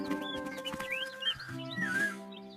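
A bird chirps and tweets in a quick series of short, bright calls, close and fairly clear above a soft tonal background, with no talking.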